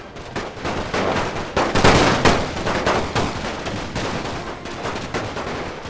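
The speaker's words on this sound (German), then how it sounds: "Die zwei Einheiten lasse ich mal schießen direkt." Infantry units fire rifle volleys in the First World War strategy game NTW The Great War, a loud, dense and continuous crackle of overlapping shots rolling on for several seconds.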